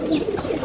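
Golden Pakistani high-flyer pigeons give a soft, close coo, a brief burst of low throaty murmuring with no talk over it.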